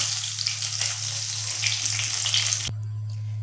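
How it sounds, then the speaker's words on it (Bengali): Eggs fry in hot oil with turmeric in a pan, browning for a Bengali egg korma. A steady, close sizzle runs for under three seconds, then cuts off abruptly, leaving a faint hum. "ডিমগুলোকে আমি এভাবে ভালো করে লাল লাল করে ভেজে নেবো"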